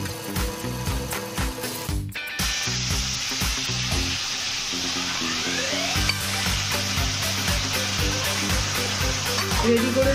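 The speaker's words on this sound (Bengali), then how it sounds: "রেডি করে রাখা চিকেনের মিক্সচারটাকে কড়াতে ঢেলে দিই।" Marinated chicken mixture poured into a hot kadai erupts into loud, steady sizzling and frying, a continuous hiss with stirring scrapes and a faint rhythmic background hum throughout.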